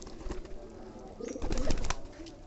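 Giribaz pigeons on a pigeon farm cooing softly and close by, a few low throaty coos clustered in the second half over faint background noise.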